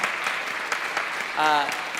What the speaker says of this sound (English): let's finally give a big round of applause